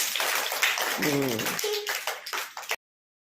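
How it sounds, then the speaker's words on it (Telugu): Classroom children clapping together on a no-bag activity day, a dense burst of quick claps close by, mixed with a teacher's voice and children's voices, ending abruptly. "క్లాప్స్ కొట్టండి అందరూ"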